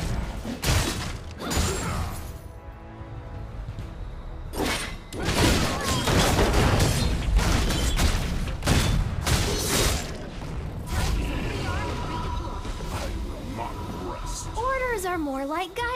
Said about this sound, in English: Wanna see the fireworks?